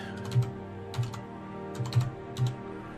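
A handful of soft, separate keystrokes tap out a password on a computer keyboard, spaced unevenly over a low steady background hum.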